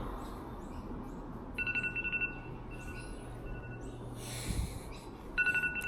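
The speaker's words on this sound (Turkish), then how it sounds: "alarm çalıyor" A phone alarm beeps in short repeated bursts of electronic tones, moderately loud over a low background hum, with pauses between bursts.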